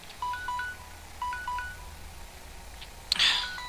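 A phone timer alarm plays a quick, repeating pattern of short electronic beeps at moderate volume, then a sharp click or tap cuts in near the end.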